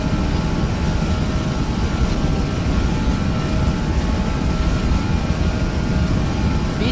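Airliner jet engines spooled to takeoff power on the runway in Flight Simulator X, a constant loud broadband roar with a faint tonal whine, steady throughout with no speech over it.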